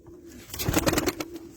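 A female blue Arab pigeon coos, one short rolling burst of soft throaty notes that swells and fades within about a second, close by and alone.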